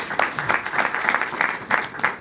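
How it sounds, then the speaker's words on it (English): Audience applause at a film Q&A after a song from the film, a steady burst of clapping from a crowd filling the room, with a faint voice underneath. "big round"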